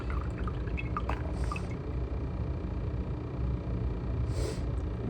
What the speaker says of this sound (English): rinse everything out of here.